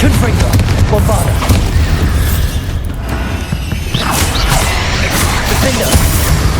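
The Bombarda spell detonates during combat in the video game Hogwarts Legacy, a loud booming explosion among a continuous barrage of whooshing, crashing spell impacts, with voices calling out.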